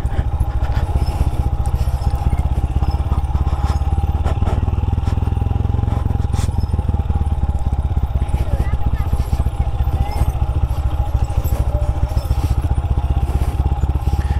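Rusi Classic 250 motorcycle ridden off-road, engine thrumming loudly and continuously with clattering and bumps from the rough track, a voice speaking over it.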